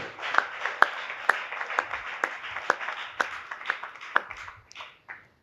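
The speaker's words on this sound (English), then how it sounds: "Once more, one big round of applause for all of them, please." Audience applause for devotees' poems at a Sri Rama Navami celebration: a small crowd claps with loose, scattered sharp claps standing out, fading and thinning toward the end.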